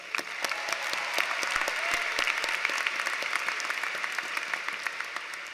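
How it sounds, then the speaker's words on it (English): A large commencement crowd at Worcester State's 2024 graduation ceremony claps steadily for several seconds, a dense, even wash of applause. "Let's give them a round of applause."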